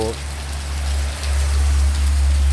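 Rain falls in a steady, dense patter for a few seconds over a continuous low hum, loud and unbroken.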